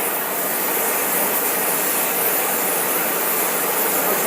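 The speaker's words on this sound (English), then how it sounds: "Hope you guys can hear me over this plane." A plane passes overhead outdoors, a loud, steady broadband roar that stays constant throughout with no breaks, dominating the scene.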